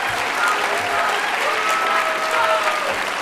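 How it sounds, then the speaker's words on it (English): A large crowd at a mayor's State of the City address claps steadily in a dense, continuous wash of applause, with faint voices mixed in underneath. "Let's clap our hands for freedom of speech in this country."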